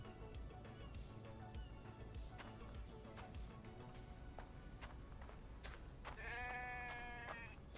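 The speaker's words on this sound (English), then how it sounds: "We got a sheep following a Vambi." Sheep in a survival video game bleat once near the end, a short wavering call over dense in-game music and footsteps.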